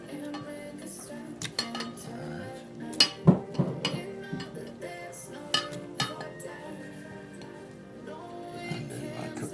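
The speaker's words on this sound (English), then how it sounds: "so I'm going to add my pineapples" Pineapple pieces for a carrot cucumber juice being handled in a kitchen, with scattered clinks and clatters of utensils and dishes, a few sharper knocks in the middle, mostly without talk.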